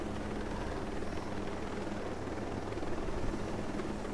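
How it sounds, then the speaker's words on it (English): Helicopter in the video game Ghost Recon Breakpoint, a steady, dense rotor-and-turbine drone with even chopping pulses, loud and constant across the whole stretch with no speech. "This helicopter can be turned around."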